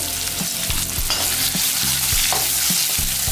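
Cucumber cooking in a pan for sabudana khichdi, a steady loud frying sizzle with repeated scraping stir strokes, no talking.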